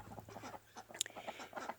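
Muscovy ducks, a tree-roosting swamp species, give a series of soft, rapid clucking and chattering calls close by, with one sharper peak partway through.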